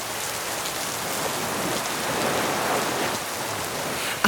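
Heavy rain pours down at sunset at the Ahilya by the Sea resort in Goa, a dense and steady hiss that stays even and close throughout with no voices.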